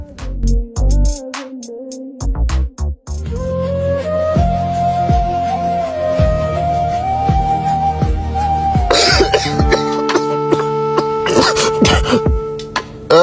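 A person coughs a few times amid a busy Bangladeshi street scene, with traffic, horns and voices around, and a loud tonal vehicle or horn sound carrying through much of it.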